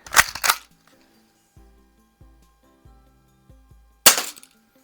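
Daisy 340 BB gun fires at a can: two sharp cracks at the start, a string of faint mechanical clicks and pumps between, then another loud shot near the end.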